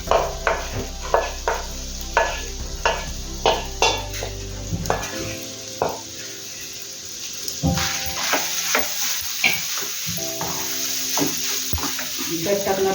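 Mashed potato is mixed with salt in a pan for kachhi dabeli filling, a spatula scraping and pressing in quick, regular strokes about twice a second, close and moderately loud, with a faint sizzle beneath.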